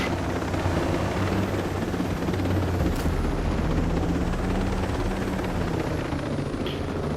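A helicopter flies in the video game Ghost Recon Breakpoint, with a loud, steady rotor drone and engine whine that holds close throughout. A brief sharp burst cuts in partway through.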